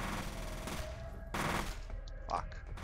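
Rapid automatic gunfire from the video game F.E.A.R. rattles in dense, continuous bursts with short surges of louder shots, filling the whole moment without pause.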